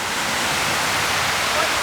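Aruu Falls in Uganda, a waterfall with six separate drops, roars as a steady, dense broadband rush of falling water, close and continuous with no break.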